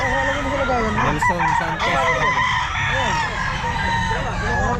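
Roosters crow loudly and repeatedly at an outdoor pet market, overlapping calls and clucks filling the air while vendors and buyers talk nearby.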